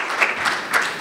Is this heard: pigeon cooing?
no